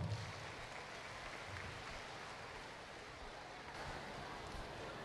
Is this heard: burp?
no